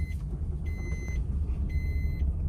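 A car driving slowly in first gear, with a steady low engine rumble throughout and two bursts of high electronic beeping, the cabin otherwise quiet.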